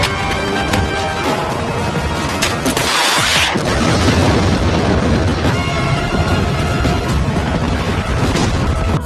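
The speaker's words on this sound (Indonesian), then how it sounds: "Ledakan tersebut membuat salju tersebut longsor." In a scene from the film Black Widow, an explosion at a tower sets off a snow avalanche: a loud, dense rumble of blasts and crashing debris, a sharp burst near the middle, continuous roaring noise throughout.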